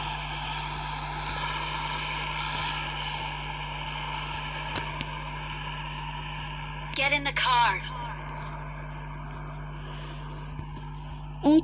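A steady video-game airplane engine drone hums throughout, with brief bursts of talking over it midway.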